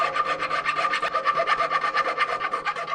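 A tool scrapes and rasps paint build-up out of small holes in a vehicle's axle and spring parts, a quick run of rhythmic close strokes with nobody talking.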